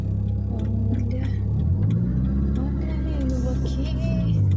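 A car pulling slowly out of a garage, its engine humming steadily and then rising a little as it moves off, with a faint voice talking over it.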